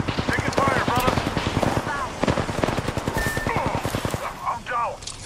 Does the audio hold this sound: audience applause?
no